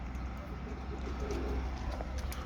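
Soft, low cooing of pigeons repeating close by in a loft in Istanbul, over a constant background rumble.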